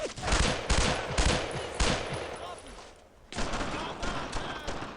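Sustained gunfire in the World War II video game Brothers in Arms: Road to Hill 30, with dense rapid-fire bursts and shots, loud and close, breaking briefly before the firing resumes.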